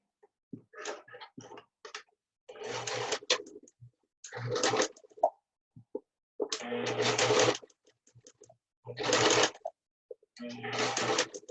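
Sewing machine stitching a fabric face mask in several separate bursts of loud, close mechanical whirring, with short quiet gaps between runs and no talk.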